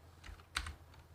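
Computer keyboard keys pressed during BIOS setup on a Gigabyte board for an AMD Ryzen overclock, a few quiet scattered clicks with one sharper keystroke near the middle, close and alone.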